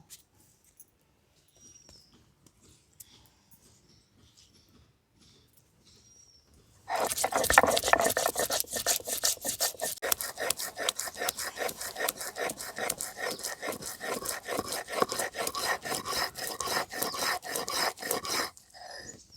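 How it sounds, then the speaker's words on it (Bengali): Mustard seeds, chillies and salt are ground on a stone slab with a stone roller: after several quiet seconds, rapid rhythmic rasping strokes begin and scrape on steadily, close and loud, before stopping abruptly. "এগুলো সব আমি একসঙ্গে বেটে নেব"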